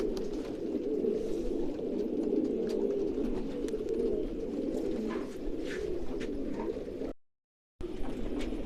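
A captured pigeon from a rooftop pigeon-keeping setup coos in soft, repeated low calls, fairly close and steady, with a brief dropout near the end and no talk.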